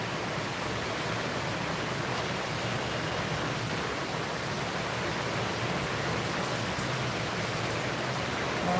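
Steady heavy rain pours down in cool weather, a dense, even hiss of drops with no pauses and no voices throughout.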